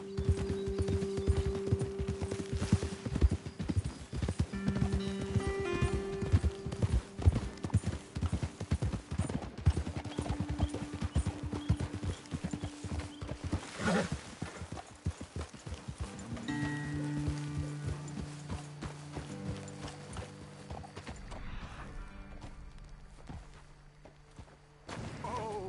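Horse hooves clip-clop steadily in the Red Dead Redemption 2 video game as riders climb toward a hilltop lookout, with musical score tones underneath and the hoofbeats thinning out toward the end.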